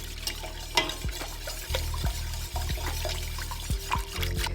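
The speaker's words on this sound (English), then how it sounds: "Now we don't want any lumps, so I'm gonna add in, and I use my whisk again" A whisk works through a cheese sauce for baked mac and cheese, making quick scraping taps and soft sloshing against the pot. A low steady hum sits underneath.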